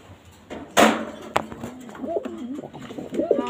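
Netoy pigeons coo softly and close by in short, warbling phrases, one sharp knock breaking in among them.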